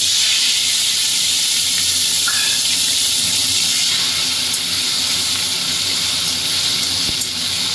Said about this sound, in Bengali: এবার টমেটো কুচিটা আমি তেলে দিয়ে দিচ্ছি।